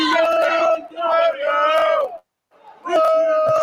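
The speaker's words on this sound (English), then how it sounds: "Are they actually singing in the crowd there?" A stadium crowd sings the football-style chant "There's only one Brett Mayo" in loud, harmonised bursts. Two phrases run together, a short pause follows, then the chant starts again.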